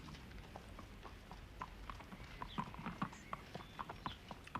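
A horse's hooves clip-clop in a steady, fairly quiet rhythm at a horse sale, the sharp strikes growing a little louder toward the end over a low background murmur.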